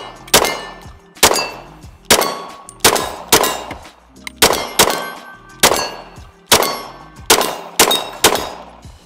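Sharp metallic dings ring out about a dozen times in an uneven rhythm as a steel target is hit by shots from a Glock 22 .40 caliber pistol, each ping loud and decaying quickly, with no voices over it.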